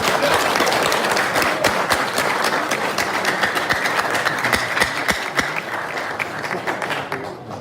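An audience at a public event in Haiti applauds a youth coordinator, sustained loud clapping from many people with dense sharp hand strikes, tapering slightly toward the end.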